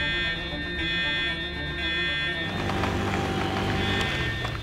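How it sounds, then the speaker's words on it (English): Park alarm sounding at a dinosaur ranch: a steady high electronic tone holds throughout, joined halfway by louder clattering noise and a rising pitched whine. "The alarm's going!"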